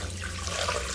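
Water poured from a container into a pot holding pork leg with bay leaves, garlic, peppercorns, lemongrass and salt for crispy pata, a steady close splashing stream running throughout with no speech.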